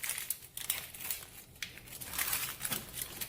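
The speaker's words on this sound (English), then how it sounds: "So go ahead and take the peel off." A vegetable for pot roast is peeled by hand, giving close, dry crinkling and tearing rustles that continue steadily for a few seconds.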